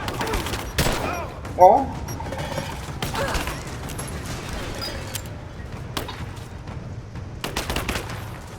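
Bursts of gunfire ring out in Rise of the Tomb Raider, with scattered shots and a louder crack early on, mixed with game effects under a man's brief exclamation and chatter.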